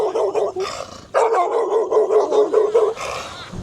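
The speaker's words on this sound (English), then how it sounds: "Oh, it's your doggy." A pet dog barks and yips in quick, loud bursts close by, with whimpering between the barks.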